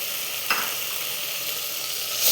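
Spices (chilli powder, coriander powder, garam masala) being stirred into beef curry with drumsticks in a pan, giving a steady close sizzle with one brief scrape of the spoon, no voices.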